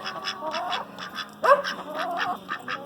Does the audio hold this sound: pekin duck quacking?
yes